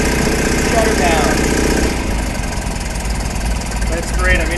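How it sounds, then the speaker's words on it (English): A cold BMW R75/5 motorcycle engine idles steadily nearby, a low throbbing rumble with an even, slightly knocking pulse. "She's idling, no worries at all."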